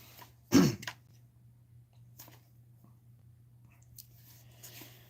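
A single sharp cough sounds close by near the start, followed by quiet room tone with faint small rustles.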